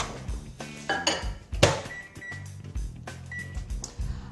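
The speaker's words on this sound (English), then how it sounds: "we're going to pop them in the microwave so they melt." Kitchen clatter as chocolate chips for black bean brownies go into a microwave oven: dishes and utensils clink and knock, a sharp bang mid-way, and a couple of short electronic beeps, close and fairly quiet.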